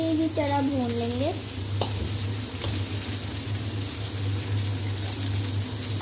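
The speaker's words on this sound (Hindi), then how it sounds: "शिमला मिर्च और प्याज अब इसको अच्छी तरह भून लेंगे।" Capsicum and onion stir-fried in a pan give a steady close sizzle with occasional spatula knocks, while a voice-like whine and a constant low hum run underneath.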